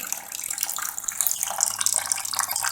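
Dark grape juice for homemade sugar-sweetened wine pours steadily from a small 10-litre press, a continuous close splashing trickle with no break.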